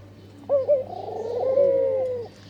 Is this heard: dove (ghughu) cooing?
yes